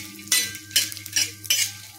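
Ingredients for fenugreek laddu frying in ghee in a pan, a close sizzle with four regular bursts of stirring scrapes about every half second, no voices.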